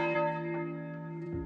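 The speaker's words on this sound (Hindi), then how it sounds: "घंटी बजी।" A school bell rings in one sustained, resonant toll with steady harmonic overtones, fairly quiet and alone, with a faint second strike near the end.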